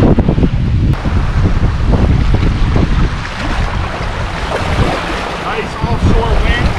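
Offshore wind gusting across calm coastal water while fishing from a boat, a loud steady rumbling roar of wind on the microphone throughout, with a voice speaking over it.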